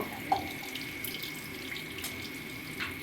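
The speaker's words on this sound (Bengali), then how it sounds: "জল মিশিয়ে দিলাম এটা কিন্তু ঠান্ডা জলই দিলাম" Cold water pours into a mustard-chili paste with a soft, steady trickle and a small splash at the start, fairly quiet and alone.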